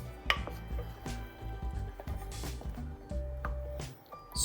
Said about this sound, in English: I'm just gonna give it a nice stir